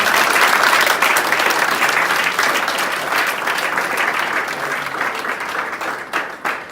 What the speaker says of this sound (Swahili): Patia Bwana makofi mazuri.